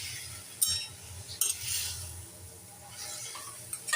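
Red amaranth greens being stirred in a pan, with a soft sizzle, scraping of a utensil and a few sharp clinks against the metal, quiet and close, with no talking.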